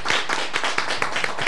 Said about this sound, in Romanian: copiii de la Bilcuța trebuie și ei să primească aplauze